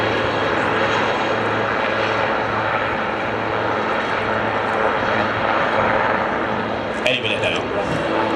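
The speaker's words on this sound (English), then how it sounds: "listen for the rotor blades slap as they descend and turn, which is a sound unique to helicopter display flying" A helicopter at an air display at the Cotswold Airshow gives a steady, loud rotor and engine drone with a rhythmic low throb as it descends and turns, with a brief higher whine near the end.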